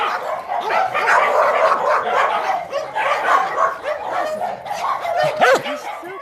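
A small, lively female dog barks and yips in quick, busy bursts close by, mixed with whimpering, over a dense, loud background.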